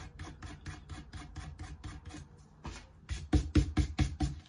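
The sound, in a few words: rubbing away glue leakage on a paper card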